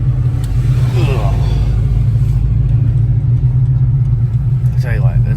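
A new car with early electric power steering creeps slowly through a tight parking area, its low engine and road rumble steady and close under a driver's speech.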